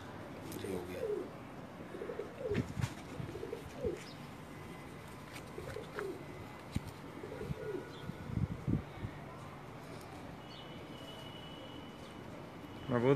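Several Rampuri pigeons of the Indian breed coo in low, rolling phrases from a rooftop loft. The calls come in clustered bursts, then thin out into quieter background noise toward the end.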